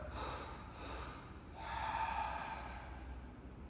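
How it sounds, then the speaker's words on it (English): A breathwork exhale, a soft, unforced letting go of the breath: close, airy breaths rise and fall over a few seconds with no speech. "Notice the exhale is just a simple letting go of the breath."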